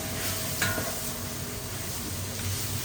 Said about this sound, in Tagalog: Sauté at ikot-ikot.